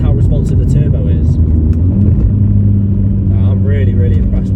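A 330bhp turbocharged VW Polo GTI pulls hard from inside the cabin, a loud low engine drone climbing and holding steady under continuous conversation between occupants.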